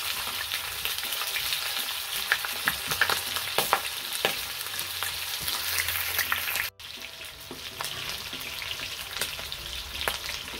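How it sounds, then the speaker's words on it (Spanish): Pork ribs fry in hot oil in a pan over medium-high heat, a loud continuous sizzle with occasional stirring scrapes and a brief break partway through. "la fritura tiene que ser a fuego medio alto"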